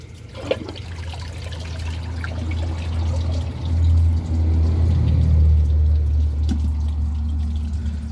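Water rushes steadily into a 2005 Briggs Abingdon toilet tank as it refills during a flush test, a continuous low gurgling flow that swells midway and stays loud and close throughout, with no talking.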